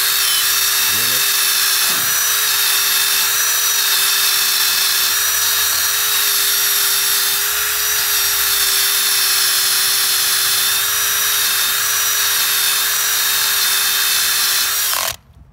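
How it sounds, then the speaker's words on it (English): A drill fitted with a brush attachment scrubs rust off natural stone as a loud, steady high-pitched whir and abrasive hiss that runs unbroken for about fifteen seconds and then cuts off. "I have this drill that is attached with a brush because I'm lazy, and so you just drill it"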